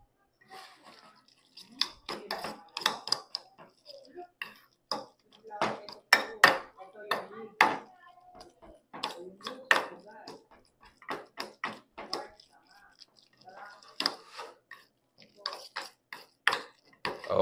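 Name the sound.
mixing sisig sauce in a bowl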